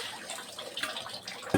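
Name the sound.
water flowing from a natural spring at a stepwell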